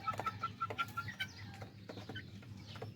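Hens on a rooftop poultry farm, kept for eggs, cluck in a steady run of sharp, evenly spaced calls at first, then more scattered, softer clucks and rustling. The flock sounds close and there is no talk.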